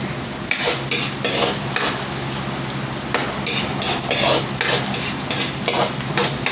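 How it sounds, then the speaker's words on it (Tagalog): Bagoong alamang shrimp paste sautéing with onion in a hot pan, a steady loud sizzle broken by repeated stirring scrapes of a utensil, close and continuous with no voices. "Gigisa po natin yung ating bagoong or yung ating alamang."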